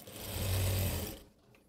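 Sewing machine stitching an invisible zip into fabric, a close steady mechanical whirr with a fast rhythmic hum lasting about a second before it cuts off, leaving faint handling sounds.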